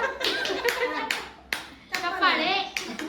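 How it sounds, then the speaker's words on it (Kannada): A group claps in a few sharp bursts as part of a clapping routine, with children's voices chattering and laughing over it. "ಚಪ್ಪಾಳೆ ಚಪ್ಪಾಳೆ"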